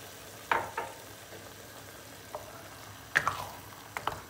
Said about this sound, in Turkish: salçamızı 2 dakika kadar domateslerle beraber bir kavuracağız